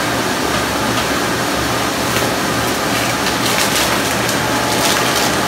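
A laminar flow hood runs as a steady, loud broadband blower whoosh with a faint low hum, continuous and unchanging, in a mushroom lab where colonized agar is being transferred to sterilized grain.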